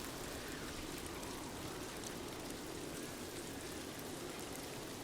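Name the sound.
rain in the video game Ghost of Tsushima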